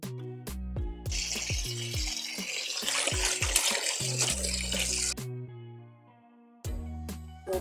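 Tap water pours steadily into a washing machine loaded with towels, a continuous rushing stream lasting several seconds, heard close up, with clunks and low tones around it.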